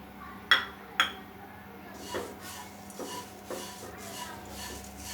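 Flattened rice (poha) being gently stirred while dry-roasting in a kadhai for chivda: two sharp, close metallic clinks of a spoon against the pan, then softer, sparse scraping and tapping.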